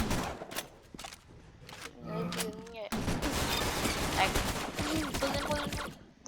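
Rapid bursts of gunfire ring out in a Roblox match, sharp shots crackling in quick clusters and then a denser stretch of firing, with a voice speaking briefly partway through.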